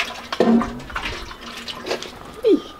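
Bucket bath with cold water poured over the body, heard as a few splashy pours and sloshes, near and fairly loud, separated by quieter gaps, with a voice exclaiming briefly in between.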